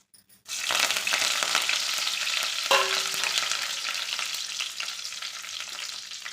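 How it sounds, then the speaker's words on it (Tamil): Mustard seeds and curry leaves fry in hot oil in a pan, a dense, steady crackling sizzle that begins abruptly and runs close and loud throughout, with a brief clink partway and no talk. "கடுகு நல்லா பொரிஞ்ச உடனே கருவேப்பிலை சேர்த்திக்கலாம்"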